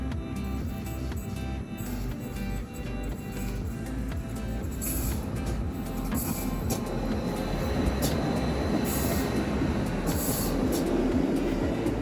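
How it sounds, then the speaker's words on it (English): A Bernina Express train rumbles past during a train meet in Switzerland, with a steady rolling roar, rising intensity and bursts of wheel and rail clatter near the end. "we have to wait for a northbound train, but I'm in no rush and everyone loves a good train meet"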